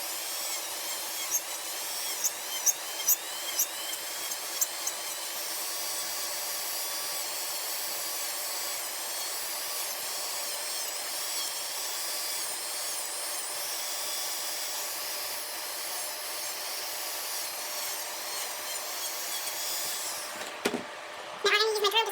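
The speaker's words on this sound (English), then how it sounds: "I'm going to go ahead and start drilling." An electric nail drill files acrylic nails with a steady high-pitched whine, with a small suction fan running nearby and faint taps and clicks near the end.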